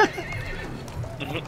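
A horse in the video game Battlefield 1 neighs in a short, loud whinny, followed by faint hoof clops, with players chatting over it.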